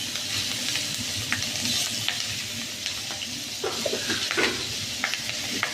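Black cumin and green chillies sizzle in hot oil in a pan, close and steady, with stirring scrapes and light clinks of a utensil against the metal.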